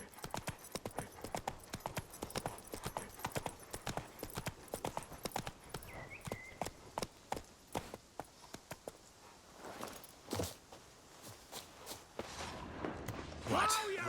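Roach, a horse in The Witcher 3, runs in a quick clip-clop of hooves that carries on throughout, with a brief whinny and some game sounds in the background.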